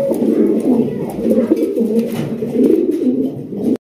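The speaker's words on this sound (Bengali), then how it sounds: "আরো এক জোড়া রেসার কবুতর আরো এক জোড়া রেসার কালেকশন" A pair of racer pigeons cooing up close, loud throaty rolling coos that repeat in overlapping waves throughout, with no speech over them.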